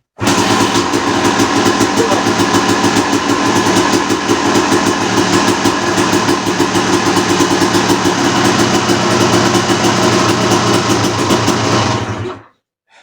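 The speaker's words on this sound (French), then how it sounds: "premier coup de kick, ça va sûrement pas démarrer puisqu'il faut le temps que l'essence descende" A 1991 Honda 250 CR motorcycle engine fires from a kick start and runs steadily at idle, a loud, close two-stroke rattle with a rapid even pulse that continues for about twelve seconds before cutting off abruptly.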